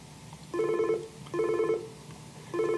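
An office desk phone on a Mitel Phone Manager system rings with an incoming call, three evenly spaced electronic ring bursts over a steady low background hum, with no talking.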